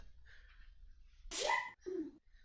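A single sharp human sneeze bursts out at close range amid quiet room tone, and a short vocal sound follows it.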